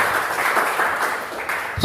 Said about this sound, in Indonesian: Semuanya boleh berikan tepuk tangan bagi Tuhan kita bisa.